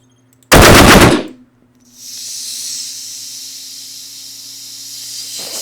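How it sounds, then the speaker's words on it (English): A hatch is shot in a video game: a sharp, loud burst of gunfire lasting under a second, followed by a sustained hissing release like venting steam over a low hum. "Okay, shoot the hatch."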